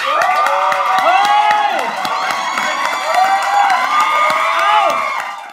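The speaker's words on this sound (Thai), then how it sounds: "ผมขอเสียงปรบมือต้อนรับพีพีครับ" A lively talk-show studio audience cheers and whoops over clapping to welcome a guest, with high excited shouts rising and falling throughout, loud and close.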